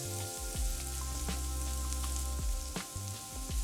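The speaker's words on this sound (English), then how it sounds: "we're adding the tomato paste to all of this fat to actually caramelize the sugars that are in the tomato paste" Tomato paste sizzles in hot fat in a pan for penne alla vodka, a soft crackling hiss broken by several low thumps and stirring bumps. No one talks over it.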